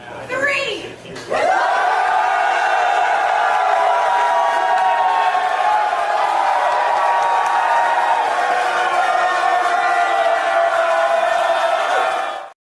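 A crowd at a Minnesota RØKKR watch party in a bar roars and cheers loudly and continuously for about eleven seconds, a dense mass of shouting voices and whoops, after a short spoken countdown at the start.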